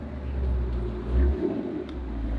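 A Ford Shelby GT350 engine rumbles steadily and revs up briefly as it drives away, a low drone that swells then settles without fading far.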